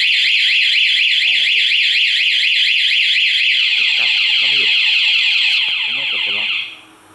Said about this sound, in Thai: ถ้ากดล็อก1ครั้งใครโดนรถเรานะครับ จะมีเสียงนะครับ